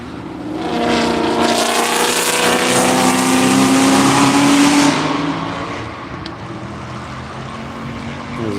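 A Camaro race car at Virginia International Raceway during a One Lap of America track session roars past, its engine note building loud and rising for several seconds before dropping away and fading into the distance, with no talking.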